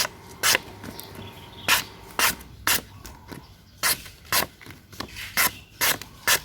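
Rhythmic rasping scrapes of a meat-slicing knife blade made from a plough disc, about a dozen short strokes in an uneven rhythm, close and fairly loud, with no talking.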